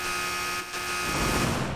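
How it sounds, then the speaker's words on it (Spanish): An alarm system blares in the Tomb Raider video game, a harsh, continuous electronic buzz that dips briefly and then resumes, loud and unbroken. "Vaya sistema de alarma más cutre, por favor"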